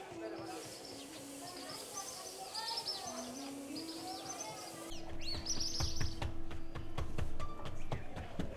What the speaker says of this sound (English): birds fly overhead, calling out as if they too are awake and busy.